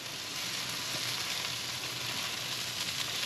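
Jerk chicken wings in wet marinade sizzle on a charcoal grill, giving a steady, soft hiss and crackle that continues without a break.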